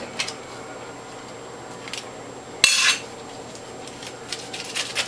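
A tool scraping pulp and fiber off the grid of a juicer after juicing Swiss chard and French sorrel, a short harsh scrape amid quiet light clinks and taps.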